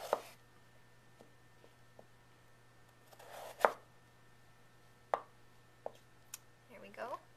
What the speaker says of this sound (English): So now that we have the potato squared off, we're going to slice it into the 1/3 inch.